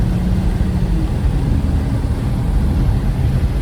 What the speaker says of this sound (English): straight pipes sound really good